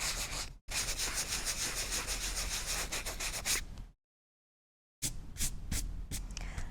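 Steady dry rubbing of sandpaper over card, close and continuous, breaking briefly twice before resuming with short strokes.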